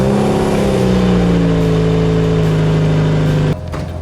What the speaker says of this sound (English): oh my gosh, this V8 sounds incredible